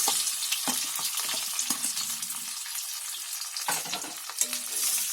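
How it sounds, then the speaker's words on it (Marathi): Boiled potato pieces frying in hot oil in a pan, a constant close crackling sizzle with a few irregular scrapes and stirring knocks. "आता तेलामध्ये आहे ना पहिले बटाटी थोडी फ्राय करायची टाकून"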